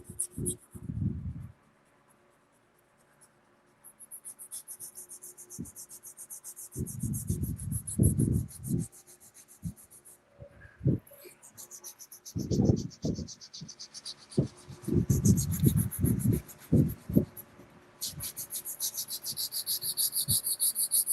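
Hand sanding of wooden tool handles with sandpaper in a shop: a bright, hissing rasp that comes in long rubbing stretches with brief pauses between them. Low thumps and a voice are heard now and then underneath.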